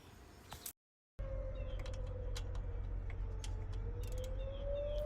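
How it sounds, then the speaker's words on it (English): A faint, distant siren wails in a slow, drawn-out tone beneath a low rumbling background, with a few scattered clicks and taps nearby. "That's a fire alarm. It goes off for every fire,"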